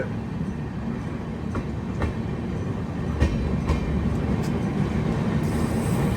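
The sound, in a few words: Jhelum Express train passing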